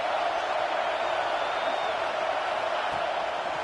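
A home crowd roars loudly and without a break at an Oregon vs Texas football game, a dense, unbroken wall of stadium noise filling the whole stretch.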